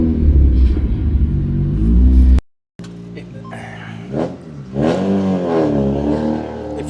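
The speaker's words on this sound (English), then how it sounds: "that is the sound of a Mark III Escort" A Ford Escort Mark III's engine revs in rough, rumbling bursts, loud and nearby, cutting out briefly before rising and falling again in uneven pulls.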